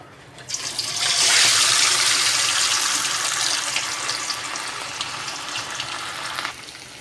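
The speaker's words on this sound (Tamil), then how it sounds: "கடாயில் எண்ணெய் ஊற்றிருக்கிறேன் ஒன்று ஒன்றா போட்டு பொறிச்சு எடுத்துக்கலாம்" Masala-coated fish frying in hot oil in a kadai gives a steady, loud sizzle that swells quickly, holds for several seconds and then cuts off, with no talking.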